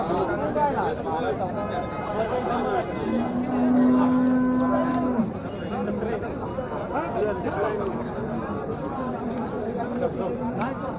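HF cows low at the Chakan cattle market, one long moo rising over steady crowd chatter and nearby talk throughout.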